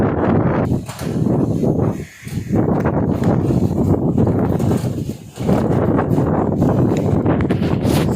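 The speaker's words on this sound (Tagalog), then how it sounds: "kung naririnig nyo, napakalakas ng hangin" Strong typhoon wind in Catanduanes, Philippines, buffets the microphone in loud, roaring gusts that drop out briefly twice before surging back.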